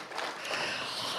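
Dense applause from a gathered audience at a spiritual gathering, a steady wash of many hands clapping at even loudness without a clear start or finish.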